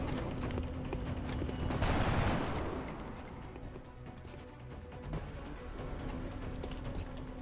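One loud, broad shotgun blast goes off in the Long War video game, followed by a few lighter impact clicks and thuds from the game against a quiet background.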